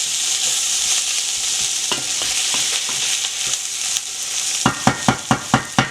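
Tomatoes and turmeric frying with spices in a pan for a Réunion sausage and banana-flower cari, a loud close steady sizzle with irregular stirring scrapes, then a run of quick rhythmic spoon strokes at the end, no talk.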